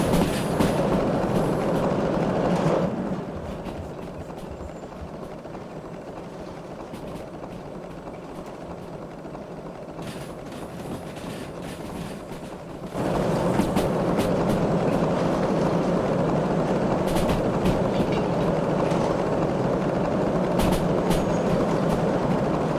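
Steam locomotive running in the Derail Valley train game, a steady rolling rumble with clickety rail noise that drops quieter for a stretch in the middle, then swells back to full strength, continuous and without talk.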